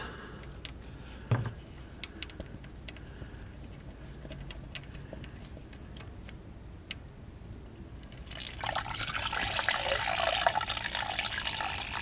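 Manual transmission fluid from a Ford Ranger gearbox begins pouring out once the plug is unscrewed, with a steady liquid splash that rises sharply partway through after some faint clicks and handling noise, close up and with no talking.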